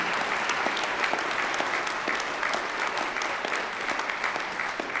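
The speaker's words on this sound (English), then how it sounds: "So we'll give everyone a round of applause, everyone who's graduated today" Graduation ceremony audience at the University of Northampton giving sustained applause, a dense, even roar of many hands clapping that stays steady and full throughout.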